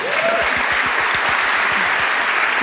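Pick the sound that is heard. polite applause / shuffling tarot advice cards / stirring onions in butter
polite applause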